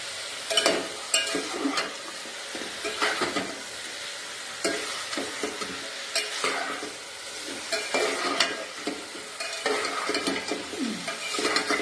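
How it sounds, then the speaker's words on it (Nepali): Food sizzles steadily in a hot pan while a spoon stirs and scrapes repeatedly, close and fairly loud. "र एकछिन सेतो हुने गरी भुट्नु दिनुपर्छ"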